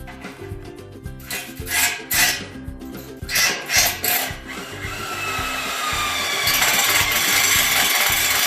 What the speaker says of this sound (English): So I got a drill bit here. And I'm going to run this down through